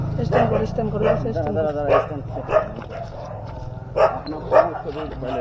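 A dog on a road after a motorcycle accident barks and yelps in short bursts, close by, while people talk loudly over it.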